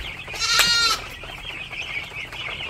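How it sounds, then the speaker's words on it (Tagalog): Several goats bleat loudly and close by on a farm, a burst of harsh wavering cries followed by softer calls over a murmur of outdoor background noise. "Mga kambing eh."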